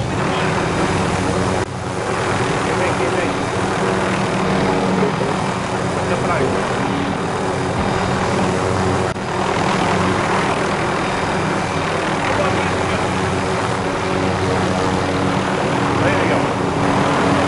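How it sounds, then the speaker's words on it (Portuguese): A helicopter in the video game Call of Duty: Modern Warfare gives off a steady, loud rotor-and-engine drone for the whole stretch, with players talking over it. "Quer pegar esse helicóptero aí?"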